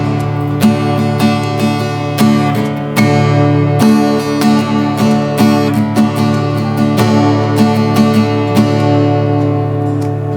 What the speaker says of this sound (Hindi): जो कि डी मेजर का आप साउंड सुन सकते हैं।